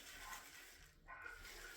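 Water poured out of a bowl where shaving soap has been soaking, a brief close splashing gush with a short pause in the middle, fairly quiet and without talk.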